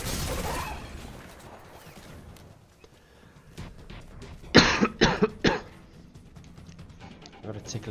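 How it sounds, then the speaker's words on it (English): A series of about four sharp, harsh coughs in quick succession from a gamer streaming a shooter, close and loud, with game sounds and a raspy texture in the background. "A bit of a cough on the go."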